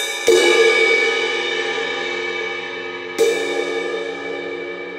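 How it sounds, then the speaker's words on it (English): A bronze singing bowl rings with a sustained, shimmering tone as a stick is stroked around its rim, struck afresh twice so the hum swells and slowly fades, close and alone. "The long sound is produced by stroking the stick around the outside of the singing bowl."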